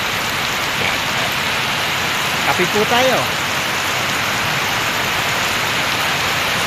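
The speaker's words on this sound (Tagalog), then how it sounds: "Lakas talaga ng ulan." Heavy rain pours in a dense, steady hiss, with a person speaking briefly partway through.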